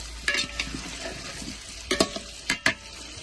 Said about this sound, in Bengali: এর মধ্যে কাঁচা লঙ্কাগুলো দিয়ে দিচ্ছি